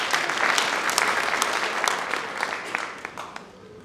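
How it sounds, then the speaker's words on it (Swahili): A congregation applauds at a pastor's ordination service, a steady wash of clapping with some sharper claps that tapers off slightly near the end. "Wachapieni makofi."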